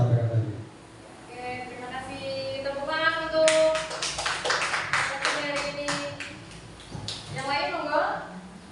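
During a talk session on positive school culture, a group claps for about three seconds in a burst of crisp, scattered hand claps. Speech comes before and after the clapping and continues faintly underneath.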